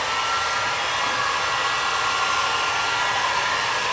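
A heat gun runs steadily as it warms vinyl wrap on the front bumper of a 2015-2017 Subaru Outback. The constant airy fan whoosh carries a faint motor whine, holds close and even throughout, and has no talk.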